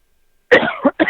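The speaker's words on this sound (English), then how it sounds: "get all my coughs out" A person coughs three times in quick succession, close and loud, the last two bursts short and sharp.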